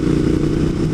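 A motorcycle engine pulls hard on the throttle, a loud, close, steady drone that holds without letup for a moment, with no voices over it.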